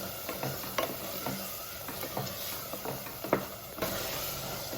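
Pudina pulao being stirred in a cooker, with repeated scraping and stirring strokes over a steady background sizzle, up close and fairly quiet, with no voices.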